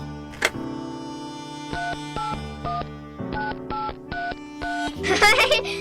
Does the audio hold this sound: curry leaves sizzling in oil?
no